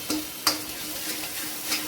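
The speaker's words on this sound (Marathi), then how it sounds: "हळद टाकल्यानंतर छान असं मिक्स करून घ्यायचं." A spoon stirs turmeric into hot tempering with bay leaf in a pan for matki dal aamti, giving a soft sizzle under a few scraping strokes, close up and brief, with no talking.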